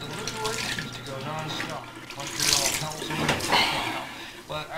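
Water runs steadily from a sink tap in a home, flowing and splashing under a voice speaking in a broadcast setting.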